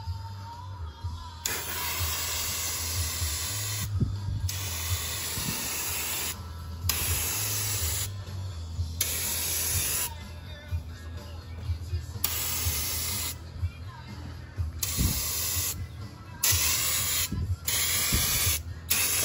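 Rust-Oleum tall turbo spray cans spraying black paint, long loud hissing bursts broken by short pauses and repeated over and over, close to the microphone with a low engine hum underneath.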